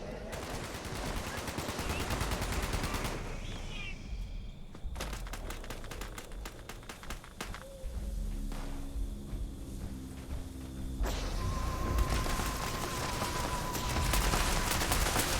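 Rapid gunfire in Fallout 76, in bursts of repeated sharp shots near and loud against game ambience, then a quieter stretch before heavy firing resumes.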